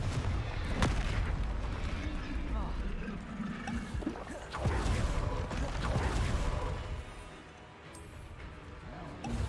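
Confringo blasting spells go off in a Hogwarts video game, with repeated booming explosions and sharp blasts rumbling loudly over dense game noise while a voice talks.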